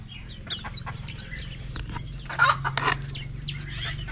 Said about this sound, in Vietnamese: con có một con là tập gáy, còn một con thì chưa biết gáy đâu